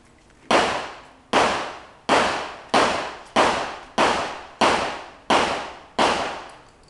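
An MP5 submachine gun fires at an outdoor firing range. Nine loud, sharp reports come at an even pace of under a second apart, and each one rings out and decays before the next.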